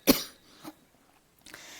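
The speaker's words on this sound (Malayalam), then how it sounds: "എനിക്കും ചുമയൊക്കെ പിടിച്ചിട്ടുണ്ട് കേട്ടോ" One sharp, close cough bursts out at the start, followed by two softer throat sounds, set against near silence.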